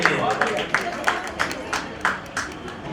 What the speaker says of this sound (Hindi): एक बार जोरदार ताली हो जाए धनी सर के लिए।